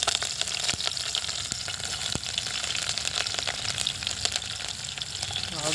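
Green chilies frying in a pan over a wood fire, a steady close crackling sizzle with scattered pops running throughout, no voices.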